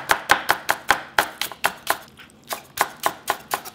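Green onion chopped with a knife on a board, a quick regular run of about fifteen crisp knocks with a short pause midway, close and clear with no talking.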